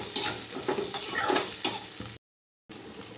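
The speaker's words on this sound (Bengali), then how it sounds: "আদা বাটাটা দিয়েছি, আলুর সাথে ভালো করে কষিয়ে নেব।" Potatoes with ginger paste and chili powder sauté in a pan, a steady sizzle broken by scraping stir strokes and a few spoon clinks, close by. About half a second of silence follows before the frying resumes.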